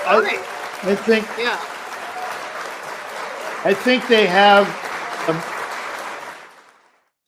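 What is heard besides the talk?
applause sound effect on live show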